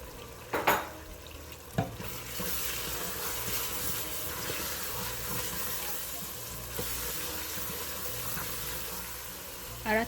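Onions and berbere spice frying in oil for a chickpea-flour fish stew, a steady sizzle with occasional clattering knocks of a spoon, close and fairly quiet.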